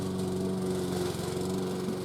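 A neighbour's lawnmower runs steadily in a garden, its engine giving a continuous droning hum at moderate distance with no pauses or voices.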